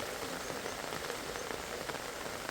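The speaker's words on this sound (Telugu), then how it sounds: "శనివారం తెల్లవారుజామున మూడు గంటల నుంచి కురిసిన అధిక వర్షం" Torrential rain falls in Pulicherla, Chittoor, as a constant even hiss of drops on the ground with occasional faint patters standing out, heard alone without talk.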